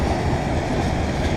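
A BNSF freight train passes close by on a railroad, a loud, steady rumble of rolling cars filling the whole moment without pause or voices.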